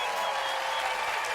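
A massive crowd at David Ortiz's National Baseball Hall of Fame induction in Cooperstown roars with dense, steady cheering and applause for a brief moment.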